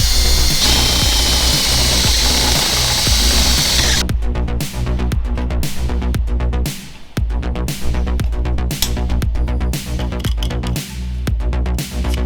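A power drill runs loud and close, whining steadily at first, then repeatedly starting and stopping in short bursts as it bores holes for rivet nuts to mount a shower tent bracket.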